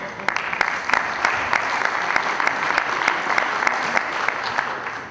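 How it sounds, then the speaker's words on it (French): Audience applause at an award ceremony: sustained, dense clapping from a seated crowd in a hall, steady and fairly loud throughout with sharp individual claps standing out, and no voices heard over it. "on peut les applaudir"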